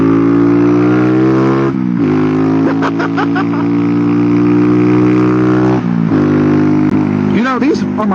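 Honda Grom motorcycle circling a roundabout with the rider dragging a foot peg, its small engine droning loud and steady at close range, pitch dipping and rising with throttle changes, while a voice talks over it.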